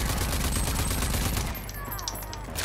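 Rapid automatic gunfire from a Ranger Assault Rifle in the video game Rage 2, a dense continuous burst that is loud and up close, with scattered clicks and pings near the end.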